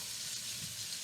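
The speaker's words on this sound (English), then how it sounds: "My cast iron skillet. You hear that sizzle?" Pork sizzling in a heavy cast iron skillet, a steady broadband frying hiss that runs without a break, fairly quiet and close, with no talk over it.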